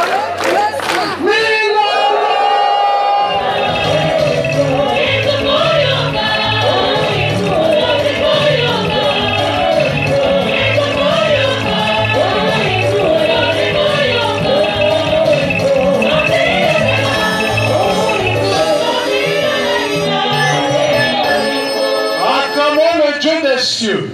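A church celebration crowd claps and cheers at length, loud and close, with steady dense applause, whoops and shouts layered over music in the room, continuing with little letup.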